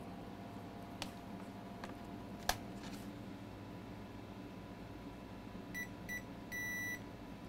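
A multimeter's continuity tester gives three short electronic beeps while probing components on a tablet circuit board, the last one held a little longer, heard alone over faint hiss and a couple of small clicks.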